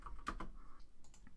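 Soft, quick keystrokes on a computer keyboard type text into a web page builder box, a short burst of faint clicks up close.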